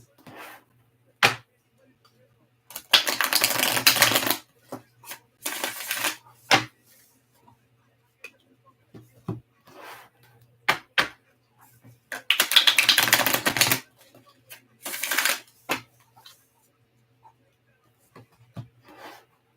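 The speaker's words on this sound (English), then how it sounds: "One more good shuffle." A deck of tarot cards being shuffled in bursts, with repeated riffling and rustling passes separated by short pauses and small taps, close and fairly loud, with no voices.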